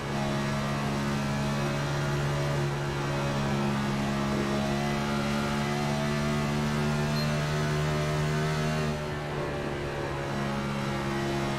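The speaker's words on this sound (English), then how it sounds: "One thing I like about these cars, they just sound mean." A NASCAR Next-Gen race car drones loudly and steadily with a deep, sustained engine tone that shifts slightly in pitch as it goes by, no voices heard.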